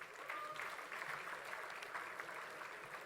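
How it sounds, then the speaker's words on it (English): Audience clapping at a business school convocation in 2018, continuous applause from a large hall that runs evenly throughout at a moderate, slightly distant level. "Kuthari Yashesh, Kumarji Satish, M. Manish, keep applauding, please."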